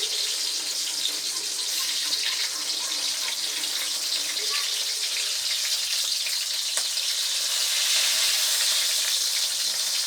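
Hot cooking oil frying eggplant hisses and crackles in a steady, loud, even sizzle that runs unbroken from start to finish.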